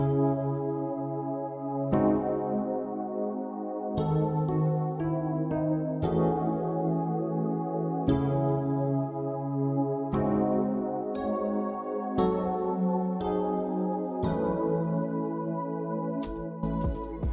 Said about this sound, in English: So I went to expand and I grabbed this pad, the E-piano pad.